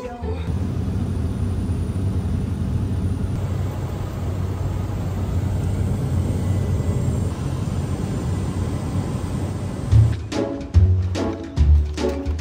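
Small propeller airplane droning steadily from inside the cabin, a continuous loud hum that gives way to clattering, bumping noises in the last couple of seconds.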